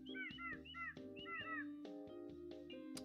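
A video game bird gives quick repeated chirping, warbling calls in short bursts over a steady low musical drone, faint and without talk.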